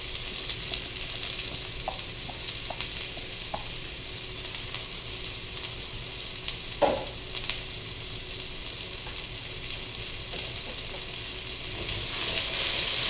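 Onions sizzling in oil in a pan with garlic while cooking chicken fried rice, a steady soft hiss at low volume with a few light clinks and one louder scrape of a utensil midway.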